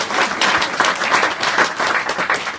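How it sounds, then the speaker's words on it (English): An audience at an evening health talk applauds a guest, a dense burst of many hands clapping loudly and close, filling the whole short moment with little change in level. "Oh, come on, give him the clap."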